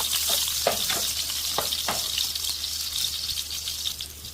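Garlic frying in hot cooking oil while adobong kambing is being made: a steady, dense sizzle with occasional sharper pops and crackles throughout, close and fairly loud, with no talking.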